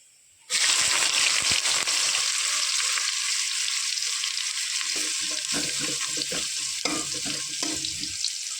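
Onions sizzle and crackle steadily in hot oil, a loud continuous frying hiss that starts suddenly and carries on with faint stirring knocks underneath.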